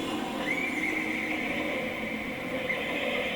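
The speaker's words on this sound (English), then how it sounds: "Caballo da un relincho, ¿viste?" A horse whinnies in one long, wavering high cry over a constant background rumble, with no talking.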